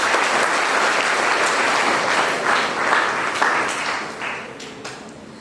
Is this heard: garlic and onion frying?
no